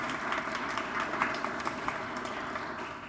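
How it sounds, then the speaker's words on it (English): Applause rises from the audience at an awards event, a steady wash of many hands clapping at moderate volume, heard alone for a few seconds. "Let's give them a round of applause."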